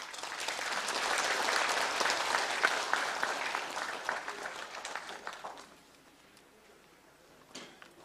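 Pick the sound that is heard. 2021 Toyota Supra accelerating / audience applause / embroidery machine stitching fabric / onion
audience applause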